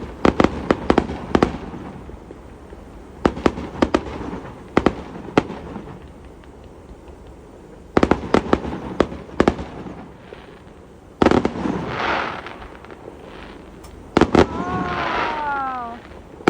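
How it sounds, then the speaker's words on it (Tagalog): Fireworks burst in scattered clusters of sharp pops and booms, some quick salvos and some single cracks, heard from a distance with faint crowd sounds and whistling trails near the end. "may nadaanan kaming fireworks"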